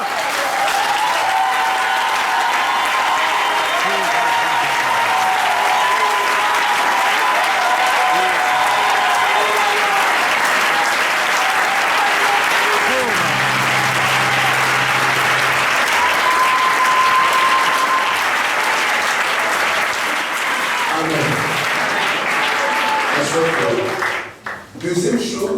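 A church congregation claps together in sustained, loud applause acclaiming the Lord during a prophetic worship service, with cheers and music blended in before it tapers off near the end.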